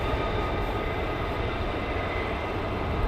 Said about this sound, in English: So these are the conventional takeoff aircraft.